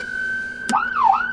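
A police vehicle siren sounds up close in a Suburban: a steady high tone, then a sharp click, after which the pitch begins the slow sweeping rise and fall of a wail setting.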